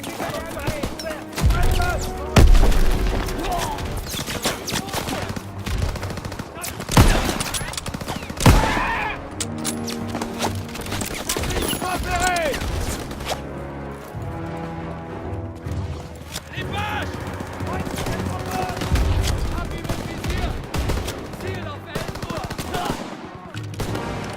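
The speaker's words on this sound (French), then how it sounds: "Un servant tire avec ce pack 38!" Gunfire from a Pak 38 anti-tank gun crew in the Call of Duty WWII video game, Operation Cobra mission, with dense, loud bursts of shots and booming blasts repeating throughout amid heavy battle noise.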